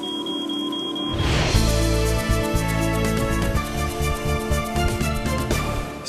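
A smoke detector alarm goes off with a sustained, loud, piercing electronic tone pulsing steadily, preceded by a brief quieter high beep.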